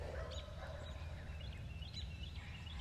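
Outdoor bird calls beside a pond, a few brief chirps and warbles rising over a steady low rumble of ambient background noise, faint and somewhat distant.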